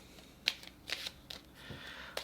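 Japanese Dragon Oracle cards are shuffled by hand up close in a few soft riffling bursts and light taps, quiet and intermittent, with no speech.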